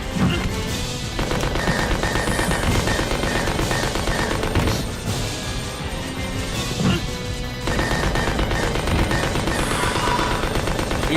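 Gunfire in the video game Resident Evil Code Veronica comes as dense, loud bursts of rapid shots and crashing impacts, nearly continuous with brief lulls, over a busy game soundtrack.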